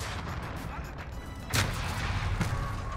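In the video game Modern Warfare, a long-range rifle shot sounds as one sharp report near the middle and a fainter crack shortly after, over a steady wash of in-game background noise.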